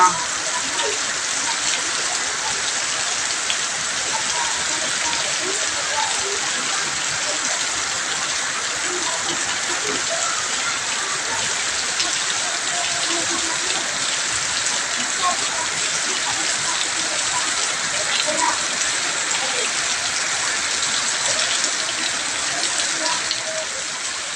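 A constant wash of first-of-season monsoon rain on a farm, like water gushing and drumming on surfaces, holds steady at an even level for the whole stretch.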